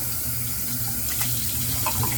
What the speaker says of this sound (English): Put a little spray of water in the bowl.